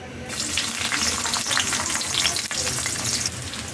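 Chopped onion and garlic frying in plenty of oil for a fish curry, a loud, dense, continuous sizzle close by with faint stirring scrapes throughout.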